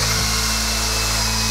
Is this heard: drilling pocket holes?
yes